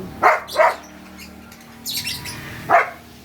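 Pet birds let out a few loud, harsh squawks in short bursts, with a shrill chattering call in between, close by with no talking.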